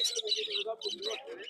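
Several caged birds chirp and tweet in quick bursts, close by, with some overlapping calls, at a bird market in Dhaka, Bangladesh.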